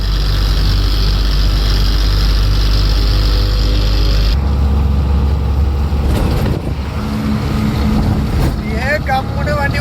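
Steady, loud drone of a vehicle engine while driving, a continuous roar with rushing wind noise, and the tone shifts partway through, heard from inside the vehicle with no talking.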